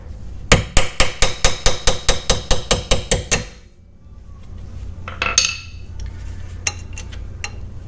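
A hammer taps out a rear wheel stud on a C5 Corvette, about fifteen sharp, evenly spaced metallic strikes in quick succession, followed by quieter clinks and workshop rustling.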